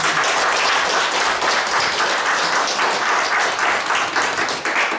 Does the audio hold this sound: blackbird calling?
no